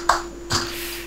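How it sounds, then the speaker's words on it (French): Two sharp, clipped hand claps over a microphone about half a second apart, thin and robotic, electronic-sounding over a steady faint hum. "Moi, ça fait un applaudissement robot."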